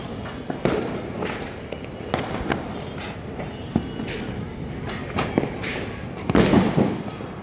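Diwali firecrackers burst at irregular intervals, heard from a terrace, a few sharp nearby bangs standing out against a steady wash of distant crackling and popping.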